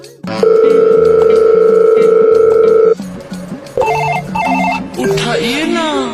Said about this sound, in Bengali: ডেলিভারি দিতে আসলে কেউ ফোন ধরে না দেই আবার ফোন দিয়ে নি